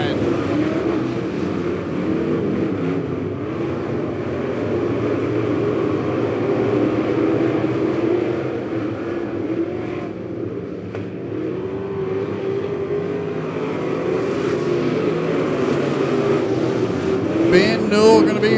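Midwest Modified race cars roar off in a heat race at Lebanon Midway Speedway, a dense continuous engine drone that swells and dips as the pack circles the dirt oval, moderately distant, with crowd and announcer chatter mixed in.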